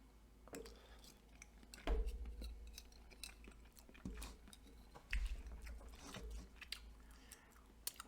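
Someone eating spicy pepper jack queso mac and cheese up close: soft, wet chewing and biting with occasional light utensil clinks, quiet and intermittent, no talking.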